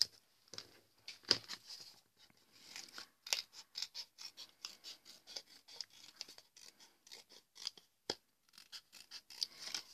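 Scissors cut paper for the arm piece of a Santa Claus greeting card in quick, quiet snips, some in short bursts and some alone, close by in an otherwise silent room.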